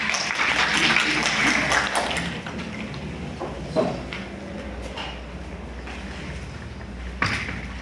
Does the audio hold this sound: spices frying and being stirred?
no